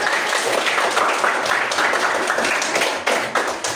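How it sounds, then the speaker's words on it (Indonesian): A class applauds a group presentation with dense, steady clapping that fills the whole stretch, loud and close. "Tepuk tangan selalu."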